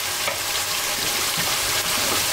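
Garlic paste, ginger paste and chili frying in a pan, giving a steady close hiss and crackle of sizzling oil with light stirring scrapes throughout.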